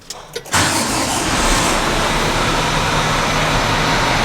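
A tractor engine cranks briefly then catches and settles into a steady, broadband idle rumble that is fairly quiet and continues close by without talk.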